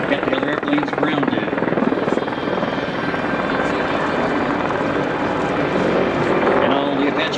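An Apache attack helicopter flies past with a dense, steady rotor roar and engine whine, loud and sustained, and a voice talks over it.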